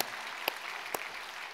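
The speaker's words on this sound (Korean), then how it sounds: "동의하시면 우리 한번 박수로 좀 격려해 주실까요?" A church congregation applauding in encouragement, heard as a faint, steady hiss of distant clapping with two sharper claps standing out.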